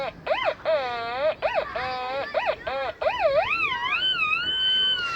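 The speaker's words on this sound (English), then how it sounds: "When you're right on top of it, it makes that sweet sound." A Quest Q20 metal detector's pinpointer emits warbling electronic tones that rise and fall in repeated sweeps, then settle into a steadier oscillating pitch when right over a target.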